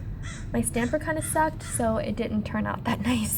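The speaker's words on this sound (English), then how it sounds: "And there's a crow overhead." A crow caws overhead outdoors, its harsh repeated calls heard through steady talking nearby.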